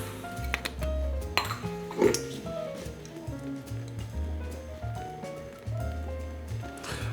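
Chopped vegetables are tossed in a bowl, clinking and clattering against it in a burst of scrapes and knocks, then a quieter stretch of light rattling with a few sharper clinks near the end.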